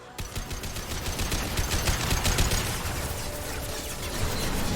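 Rapid gunfire in the video game Mass Effect 2, dense automatic bursts crackling almost continuously for several seconds, loud and up close with no talking.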